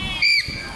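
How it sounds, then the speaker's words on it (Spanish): A large parrot lets out one short, loud, harsh squawk in a noisy animal area, lasting a fraction of a second over background chatter. "Y un loro grande."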